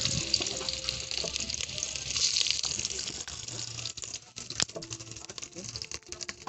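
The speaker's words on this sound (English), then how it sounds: "Our oil is ready. I've left it for some time on fire." Onions hit hot oil in a pan for Ugandan chicken-flavored beans, giving a steady, hissing sizzle close by. Scattered clicks and pops run through it, and a voice is faintly audible beneath.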